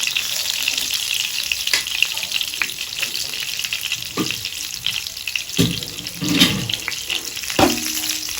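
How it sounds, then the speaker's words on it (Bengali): Eggplant pieces frying in an oil-filled pan: a loud, continuous sizzle close by, broken by occasional scrapes and knocks of a spatula turning the pieces, with no talking. "ভালো করে এইভাবে ভেজে নিতে হবে।"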